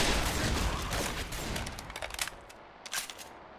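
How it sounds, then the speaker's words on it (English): Gunfire in Left 4 Dead 2, a dense burst of rapid shots at the start that thins into scattered cracks and short volleys, fairly close and loud. "You're shooting me."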